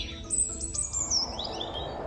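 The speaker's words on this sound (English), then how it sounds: "While exploring the forest, Leo is warmly welcomed by the birds." Birds in a forest chirp in bright, quick tweets and short trills over a soft ambient background, moderately close.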